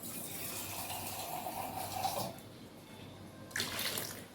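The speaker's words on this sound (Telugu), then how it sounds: "ఇంకా కొన్ని నీళ్ళు పోసేసుకోవాలండి" Water poured into a pot of dal (mudha pappu) with salt and turmeric, a steady splashing pour for about two seconds, then a pause and a second short gush, close by with no talk.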